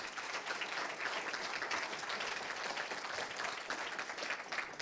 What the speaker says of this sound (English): A round of applause for those volunteers sacrificing